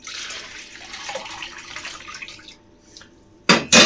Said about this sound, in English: I'm going to pour that into my jug.